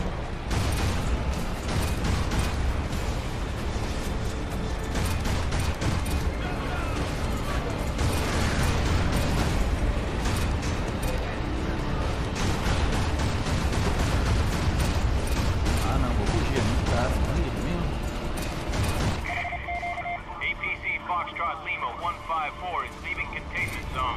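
Dense, continuous barrage of explosions, gunfire and crashing destruction from the open-world action game Prototype, loud and sustained, with a sudden drop to quieter mechanical and electronic game sounds near the end.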